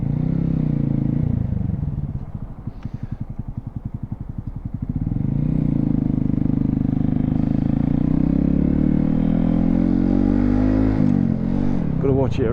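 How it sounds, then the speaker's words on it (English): A Honda Grom motorcycle's exhaust while riding: a steady, close engine drone that dips into a slower chugging idle for a few seconds before pulling back up, with someone talking over it. "I thought the exhaust on this would be quite loud and obnoxious, but it's actually, from where I'm sitting, not so bad"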